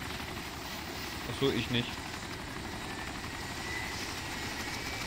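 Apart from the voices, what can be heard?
helicopter in the video game DayZ Epoch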